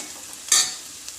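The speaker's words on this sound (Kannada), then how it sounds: "ಮೀಡಿಯಮ್ ಫ್ಲೇಮಲ್ಲಿ ಚೆನ್ನಾಗಿ ಫ್ರೈ ಮಾಡ್ಕೊಂಡಿದ್ದೀನಿ" Ingredients for a vegetable pulao frying in a pan over a medium flame, a short burst of sizzling and stirring that rises and fades within about a second, with a quiet hiss before and after.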